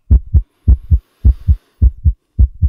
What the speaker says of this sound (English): the hellish tattoo of the heart increased. It grew quicker and quicker and louder every instant.